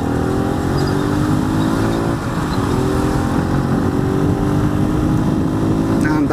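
A truck rumbles alongside a motorcycle in city traffic in Teresópolis, a loud, continuous engine drone with the bike's motor close up and steady throughout.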